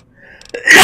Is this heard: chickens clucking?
no